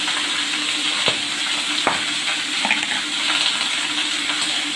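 Labra, a Bengali mixed vegetable curry, fries in a hot pan, a loud, close, continuous sizzle with a few sharp clacks of a spoon stirring.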